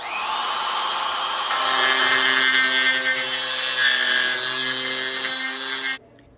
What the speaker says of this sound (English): So what I'm doing here is I'm just going to try to grind that chamfer away.